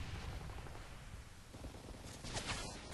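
M4 rifle gunfire in Modern Warfare 3 Team Deathmatch on the Downturn map, a steady stream of fairly quiet shots with sharper, brighter bursts toward the end.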